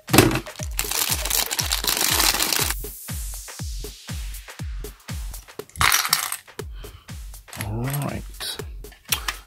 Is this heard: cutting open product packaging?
yes